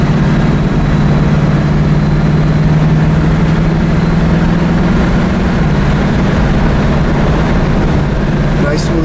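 A 1978 Mercury Cougar engine drones steadily while the car is driven down the road, a loud, continuous low hum heard from inside the car with a slight shift in pitch partway through.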